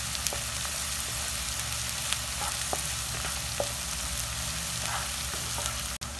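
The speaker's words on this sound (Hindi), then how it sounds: "गार्लिक को हम थोड़ा सा प्याज के साथ भूनेंगे।" Garlic fries with onion in a pan, giving a steady hiss of sizzling oil, small pops and occasional stirring scrapes, close and continuous, ending in a sharp knock near the end, with no voices.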